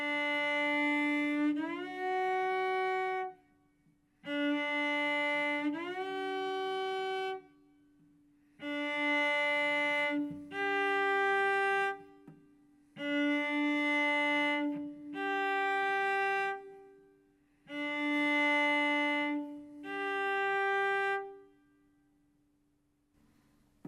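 Cello notes bowed in pairs, each starting off and sliding upward into pitch after a shift deliberately landed too low, repeated several times with short pauses, solo and clear.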